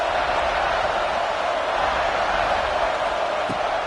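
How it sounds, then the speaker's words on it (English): A packed stadium crowd at an American football game roars steadily to urge on the home defense: a dense, continuous wall of cheering, loud and unbroken, with no distinct voices standing out. "Listen to this crowd just shaking the girders of this place, trying to help their defense."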